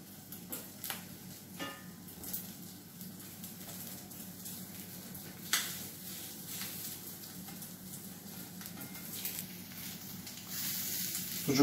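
Sucuk sausage sizzles in a cast iron pan with a steady, moderate frying hiss. Small pops and ticks break through now and then, and the sizzle swells slightly near the end.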